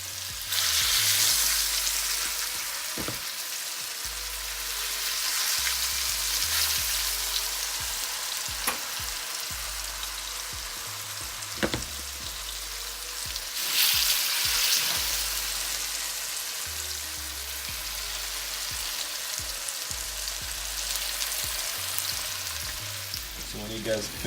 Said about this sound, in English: So I'm gonna start put some of the chicken inside the pot one by one. So I just keep my oil is hot already.